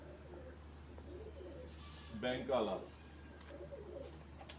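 A pet pigeon coos softly in a home, low throaty calls spaced across the moment, while a voice briefly speaks in the middle.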